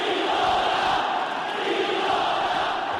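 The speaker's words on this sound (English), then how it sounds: "And here they go with the chants." A boxing arena crowd chants a fighter's name, Viloria, as a dense, steady roar that holds at constant loudness throughout with no break.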